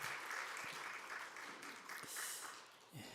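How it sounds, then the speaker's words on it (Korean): A church congregation claps in a steady, dense burst of applause at moderate distance, with a murmur of voices underneath. "우리 하나님께 영광의 박수를 올립니다."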